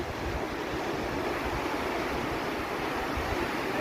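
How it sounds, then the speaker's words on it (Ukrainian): Strong, continuous wind roaring across a Black Sea beach at Sveti Vlas, Bulgaria, mixed with the wash of surf, loud and unbroken throughout. "На берегу вітер сильний."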